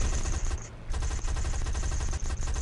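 Rapid machine-gun fire from a Spitfire fighter plane in a World War aerial combat game, loud sustained bursts with a brief pause near the start, no talk over it.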